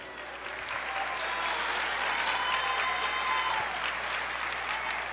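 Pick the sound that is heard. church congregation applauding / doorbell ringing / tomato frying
church congregation applauding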